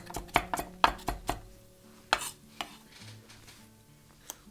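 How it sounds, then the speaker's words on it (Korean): A carrot roughly chopped with a knife on a cutting board for a cabbage omelette: several sharp, close knife thuds in an uneven rhythm, a pause, then a few more scattered chops. "당근도요 대충 잘라주세요."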